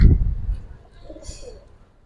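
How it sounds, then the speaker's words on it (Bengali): Giribaz high-flyer pigeons coo softly near a loud close handling thump, with low burbling calls that fade and trail off toward the end. "দেখেন এই মাদিটা অনেক ভালো লাইনের কবুতর ভাই"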